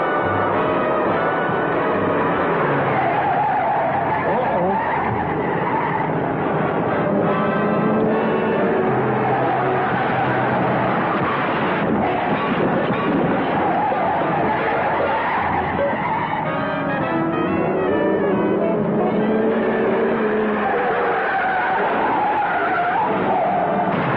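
A car driving fast with tires skidding and squealing, a loud, dense, continuous roar of engine and tire screech that persists throughout with no voices.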